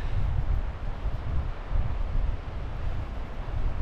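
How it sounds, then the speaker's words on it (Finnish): Steady wind blows through the Vätsäri wilderness of northern Finland, a constant low rumbling buffet on the microphone with broad rushing noise, close and fairly loud, with no talking. "3. päivän putkeen, kun tuulee aivan mukavasti."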